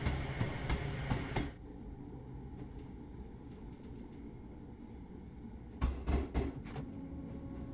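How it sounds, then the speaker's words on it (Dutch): A passenger train on the Brighton to Seaford line runs over rails near a railway arch, a steady low rumble with a louder burst at the start and sharp clattering clacks near the end. "ik hou ook een beetje van dit soort type treinen"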